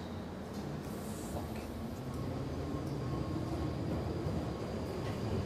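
An underground train arriving at a London Tube platform at Bond Street, a steady, moderately distant rumbling roar that swells slightly as it draws in, with no talk over it.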